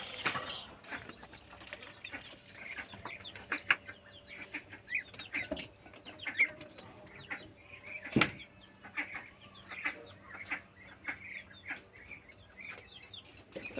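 Chickens cluck and murmur close by in a farmyard, repeated short clucks and squawks in an irregular rhythm with a sharp louder squawk partway through, no talking.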